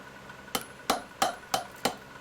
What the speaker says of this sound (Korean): 둥근 선 위에 정을 대고 망치질을 한다